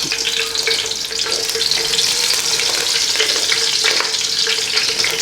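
Sliced mild green chilies fry in oil in a pan over low to medium heat, a loud, close, continuous sizzle with crackling and some stirring, no voices.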